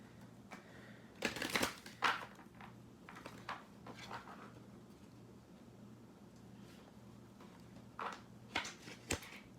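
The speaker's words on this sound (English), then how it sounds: "If I can shuffle the cards," Earth Magic Oracle cards being shuffled by hand, with soft irregular riffles and slides that come in short bursts, close and quiet with no talk.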